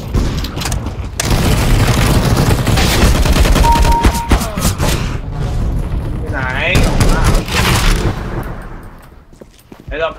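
Dense gunfire and thudding booms in the shooter CS:GO, rapid overlapping shots and impacts throughout, with voices shouting over the clamour.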